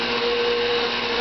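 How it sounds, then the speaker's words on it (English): Kitchen blender churning thick whipped cream toward butter, a steady loud motor whir with no break, close up and alone. "I've got to sort of help along my blender, because the cream gets so thick that it won't keep turning around"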